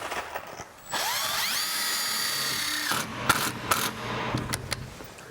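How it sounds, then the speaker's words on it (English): A power drill whines up and bores into a metal wind brace on a pole barn frame, steady high-pitched drilling for a couple of seconds, then clicks and short bursts as it stops and restarts, close by. "I'm going to come back on these and drill holes, put in some roofing nails"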